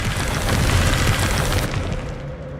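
Bombarda explosion spell cast in Hogwarts Legacy: a loud, dense blast with a broad rumbling boom that holds for about a second and a half, then cuts to a quieter fading tail.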